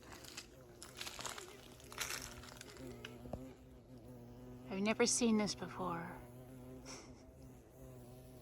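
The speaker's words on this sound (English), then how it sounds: "The boring bee in its natural habitat." A boring bee, also called a carpenter bee, buzzes close by on a wooded trail as a faint drone that swells to a loud pass near the middle. A person speaks briefly under it.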